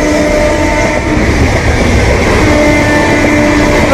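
A train rumbling steadily past on a railway line near Renigunta Junction, loud and close, a continuous roar and rattle of wagons with faint horn-like tones and no voices.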